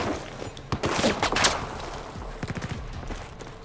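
Gunfire in the Battlefield 4 video game: a dense, fast run of sharp shots and bursts, loud and continuous across the moment, with crackling impacts mixed in.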